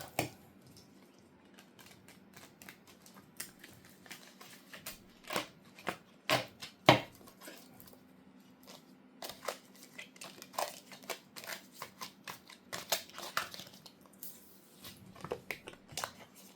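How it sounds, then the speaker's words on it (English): Tarot cards riffled and shuffled repeatedly in crisp papery bursts, close by, with soft handling clicks between riffles. "The shape of these decks are so hard to shuffle them."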